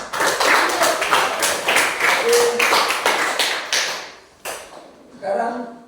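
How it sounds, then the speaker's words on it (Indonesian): Classroom of students clapping hands together in a religion lesson, a series of rhythmic bursts of applause with a teacher's voice speaking over and after them. "Oke, berikan tepuk tangan."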